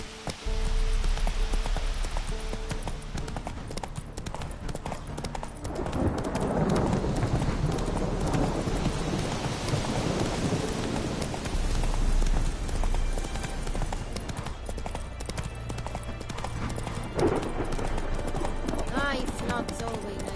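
Roach, Geralt's horse in The Witcher 3, clip-clops along in a steady trotting rhythm, close and clear over a bed of game ambience and rain-like noise, with talk over it at times.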